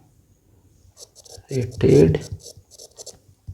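A teacher writes on a board during an organic chemistry lecture, with short scratchy strokes in bursts between and beneath his spoken explanation.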